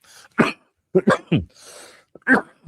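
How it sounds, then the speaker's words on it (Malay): A woman's throaty coughs come in a short burst of four or five during a student-orientation briefing, with a brief breathy pause between them, close and fairly loud. "Sorry, batuk pula, ya."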